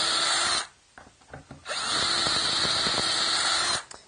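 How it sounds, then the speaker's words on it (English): Power drill boring shelf pin holes through a Wood River jig, a steady high whine for about half a second, a brief stop with small clicks and knocks, then a long continuous drilling run before winding down. "I'll put this in the drill, and we'll start making some holes"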